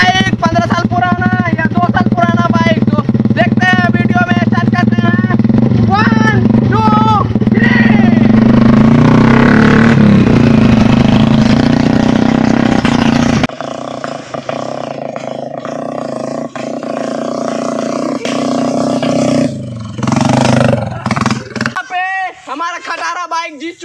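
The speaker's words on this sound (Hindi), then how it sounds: "अभी इशारा देके दोनों गाड़ी को स्पीड के लिए टेस्ट के लिए दौड़ाएंगे" A 15-year-old Bajaj 125 and a Hero Splendor Plus race side by side, engines roaring loud and close at high revs, then dropping to a lower drone as they pull away, with voices shouting over them.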